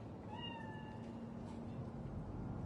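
A cat meows in the video game Cyberpunk 2077 with a thin, wavering call early on, heard faintly over a steady low in-game ambient hum of the city.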